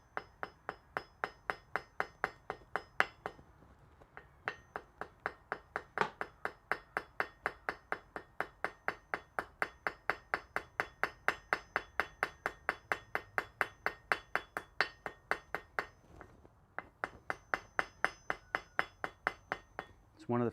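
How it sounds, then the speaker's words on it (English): Rapid, steady blows from a straight peen hammer ring on hot metal in a smithy, dozens of sharp clanging strikes in a regular rhythm with two brief pauses, close and loud. "It's one of the few times where I'm trying to put hammer marks in"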